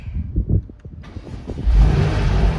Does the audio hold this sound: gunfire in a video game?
no